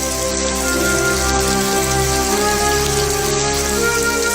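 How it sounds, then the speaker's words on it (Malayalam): Heavy monsoon rain falls in a flood-hit village, a loud, constant downpour hissing and pattering on surfaces without pause, with a faint steady hum beneath and no speech. "അടങ്ങാത്ത കണ്ണീര് പോലെ പെയ്യുകയാണ് പെരുമഴ"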